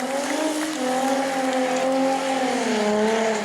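A car doing a long burnout at a burnout contest in New Smyrna, a loud sustained high-revving engine wail with wavering pitch and tire noise, continuous throughout.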